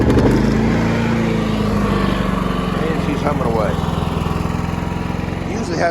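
A Predator generator engine runs in cold weather just after starting, a loud, close, steady putter that settles into a rough idle with slight fluctuation.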